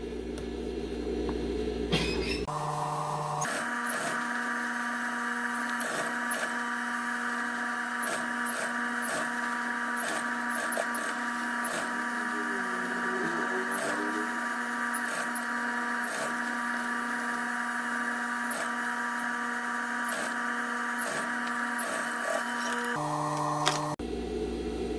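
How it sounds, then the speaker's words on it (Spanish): A sewing machine stitching the seam around a bucket hat at 7 mm runs steadily and continuously for about twenty seconds, with a close mechanical hum and faint clicks, no voices. "Y vamos a ir cosiendo todo el contorno a 7 milímetros también."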